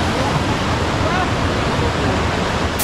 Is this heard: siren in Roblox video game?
no